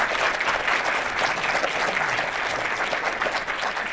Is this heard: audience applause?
yes